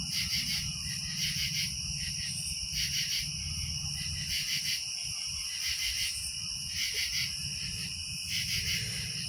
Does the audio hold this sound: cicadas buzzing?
yes